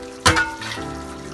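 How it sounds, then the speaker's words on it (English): A little water is poured into a pot of dal for chicken dhansak, starting with a short splashy gush and then settling into a soft, steady trickle close by. "I'll just add a little water to rinse out all the dal."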